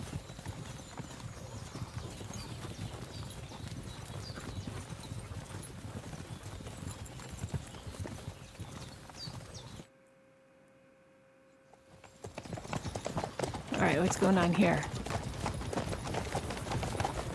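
Horses clip-clop on a road in the video game Kingdom Come Deliverance II. The hoofbeats are steady and moderately near, a brief silent gap breaks them, and someone speaks briefly.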